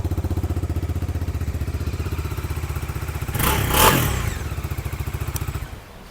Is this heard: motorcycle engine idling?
yes